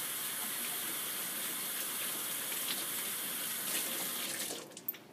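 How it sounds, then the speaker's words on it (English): Tap water runs steadily into a sink as paint brushes are rinsed under the stream, a continuous broadband splash that holds close and fairly loud before tapering off near the end. "While the water's running, you're going to rinse off your brushes."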